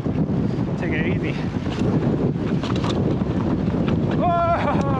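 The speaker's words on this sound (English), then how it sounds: "the wind is crazy" Heavy wind buffeting the microphone with a constant low rumble on a rough trail, voices shouting briefly over it.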